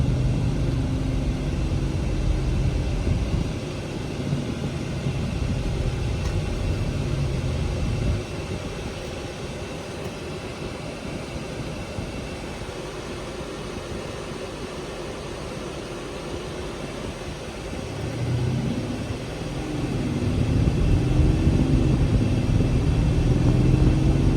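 A 2017 Mercedes-AMG GLE63 engine pulls hard under light throttle while driving, a loud steady rumble with a swell in the middle and louder surges near the start and end, with no talk.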